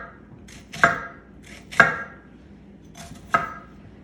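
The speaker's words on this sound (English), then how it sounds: "So now we can get slicing. Do not cut the root" A knife slices through an onion on a cutting board in three distinct, evenly spaced crisp chops that land close and sharp over near silence.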